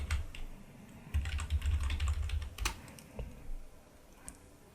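Computer keyboard keys pressed during Photoshop digital art editing, a few scattered clicks over low background hum, one sharper tap near the middle and fainter taps afterward, no voices.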